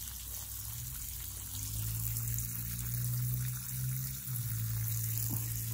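Water runs and splashes from a water-fed window cleaning pole hooked up to a tap, a continuous close trickle and pour with a steady low pump-like hum underneath.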